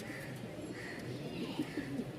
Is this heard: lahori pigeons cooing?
yes